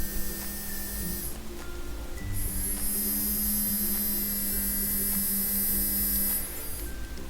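A Niceneeded electric nail drill runs as a thin, high-pitched whine for about four seconds, faint under a steady low electrical hum, held close to the microphone.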